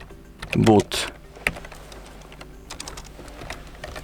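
A computer keyboard clatters as a command is typed in quick bursts of close keystroke clicks, while a voice talks over them.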